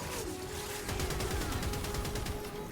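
Razor Mortar weapon firing in the Warframe video game, a rapid train of sharp, evenly spaced percussive shots over a steady electronic hum and whirring game background.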